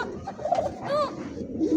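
A white Lahori pigeon with feathered feet coos in soft, throaty, rolling notes, close and fairly loud over a murmur of background noise, with a couple of distinct coo phrases in quick succession.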